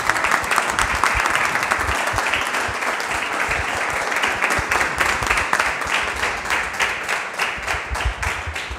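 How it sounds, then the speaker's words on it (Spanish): Audience applause at a diploma ceremony for a first electricity course, steady dense clapping from a sizable crowd sustained loudly for about nine seconds with no speech. "para María Inés Paniagua, un fuerte aplauso"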